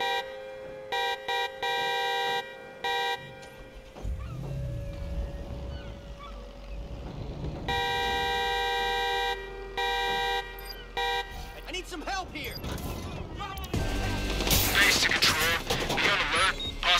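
A car horn honks in the video game Watch Dogs, sounding in repeated bursts over engine rumble and game noise. Someone talks throughout, and the horn blasts grow busier and louder toward the end.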